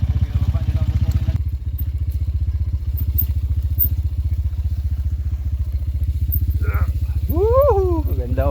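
Motorcycles are eased down a path, their engines giving a steady, close, low idling rumble throughout; voices call out excitedly near the end.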